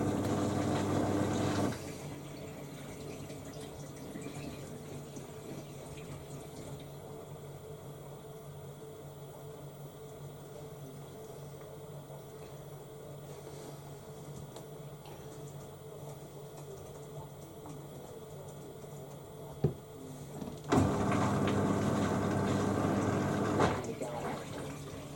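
A Beko WTL64051S washing machine draws water in on a Down Wear 40ºC cycle, a steady rushing hiss with a low hum that louder pump or motor sounds frame at the start and end.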